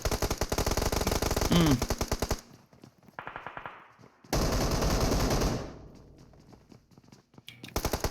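Bursts of automatic gunfire from the battle royale game PUBG Mobile during a tournament match in Rozhok, loud dense rapid volleys separated by quieter gaps, with no talk.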